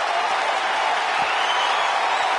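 Arena crowd cheering in the WWE 2K19 wrestling video game, a steady, dense roar of noise that fills the clip at constant loudness with no voices standing out.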